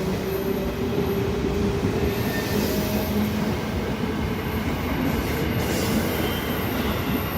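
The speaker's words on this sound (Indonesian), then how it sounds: "Iya, kereta jalan ya." A train pulls away from a station platform with a loud, continuous close rumble of rolling wheels, a faint squeal of wheels on rails drawn over the steady roar.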